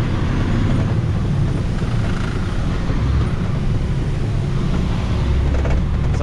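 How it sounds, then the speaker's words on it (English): Dump truck cruising in high gear after a splitter shift, a steady low engine drone mixed with broad road and cab rumble, loud and continuous throughout. "Flip your splitter. Now we're up in the high gears."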